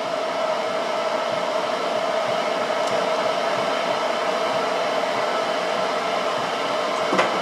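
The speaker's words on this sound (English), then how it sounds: "I'm going to need to countersink a little bit deeper, because that smooth part of the shank is bumping into the threads" A drill countersinks a hole for a screw shank, a steady high whirring hum running alone and unchanged for several seconds, ending with a faint click.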